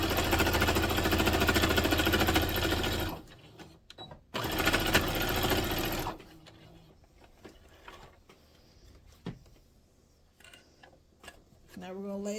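A sewing machine runs fast and steady in two close bursts, stitching a quarter-inch seam forward and back through the fabric, batting and layers of a quilted tote bag, followed by quieter handling sounds.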